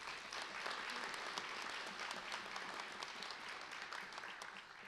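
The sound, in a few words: audience applause for retiring sheriff's office staff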